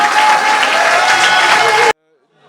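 Guests at a ribbon-cutting inauguration for the reopening of a Cantonese restaurant in Paris give loud, sustained applause, a dense wash of clapping that stops abruptly near the end.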